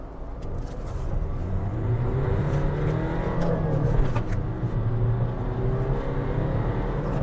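A Ciaz with the 1.5L E15A diesel engine pulls away from a standstill, its engine rumbling steadily and loudly, the drone rising gently in pitch through about seven seconds, heard close with no talk over it.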